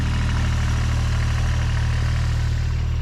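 A Kubota BX compact tractor engine runs at a steady idle, a loud, close, continuous rumbling drone with no other sounds.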